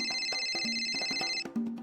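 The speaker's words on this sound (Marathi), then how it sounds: "आला फोन, आला फोन आला." A mobile phone rings in a Marathi TV serial scene, a bright electronic ringtone with a quick repeating melodic pattern, heard clearly on its own.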